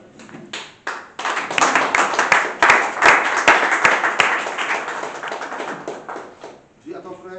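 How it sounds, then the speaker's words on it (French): A church congregation at a Togolese intercession prayer service claps together, building from scattered claps into steady, loud rhythmic applause that fills the room, then fades as a voice begins speaking near the end. "Applaudissons le Seigneur."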